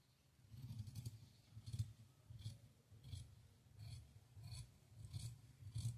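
Scissors cutting fabric for a frock nighty, a series of regular rasping snips, about eight strokes in a steady rhythm, close and quiet.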